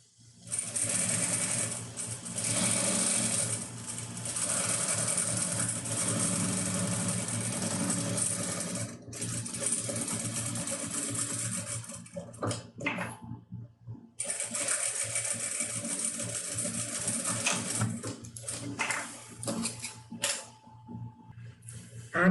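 Sewing machine running in long steady bursts while stitching a simple fabric pouch with piping, the motor's hum loud and close, with brief pauses and a short stop midway before stitching resumes.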